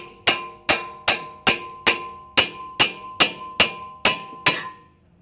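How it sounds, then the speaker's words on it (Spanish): A small hammer strikes a stuck, rusted front brake part on a 2008 Honda CR-V 2.4, ringing out in eleven loud, evenly spaced metallic blows with short decays and no talk. "Vamos a usar el martillito."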